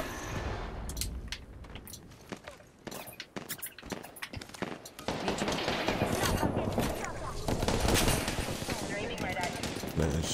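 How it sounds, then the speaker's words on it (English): Bursts of automatic gunfire from an enemy squad in the Apex Legends battle royale, rapid volleys that build into a sustained, loud exchange of fire with footsteps and a player talking over it. "I hear shooting like right behind me"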